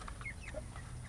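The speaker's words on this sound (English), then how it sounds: "These are Cornish rock hens." Soft clucking from several Cornish Rock meat hens, short murmured calls close by over a low, noisy background.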